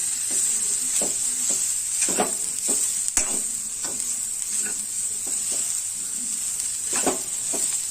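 Grated fresh coconut and coriander stems roasting in a pan on medium heat, a steady high sizzle beneath repeated spatula scrapes and taps as the mixture is stirred.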